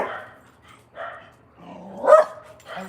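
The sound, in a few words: dogs barking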